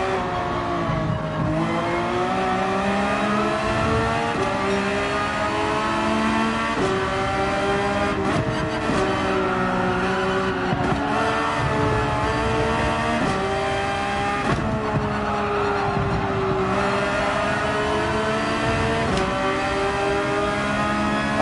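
A Gran Turismo 7 race car at Watkins Glen sounds a sustained loud engine note, rising and falling as it revs and downshifts through repeated gear changes, with no talk over it.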